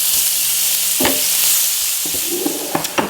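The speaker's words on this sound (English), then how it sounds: "we're going to fry these into small scrunchions" Pork fat sizzling and spitting in a hot frying pan as it renders into small crisp scrunchions, a constant hiss with a few sharp pops and the scrape of stirring, close and fairly loud.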